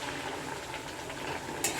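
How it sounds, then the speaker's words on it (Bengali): Katla fish curry gravy with poppy seed paste bubbles in a pot, a soft, faint, continuous simmering hiss with a small clink near the end. "আমার ঝোল ফুটছে"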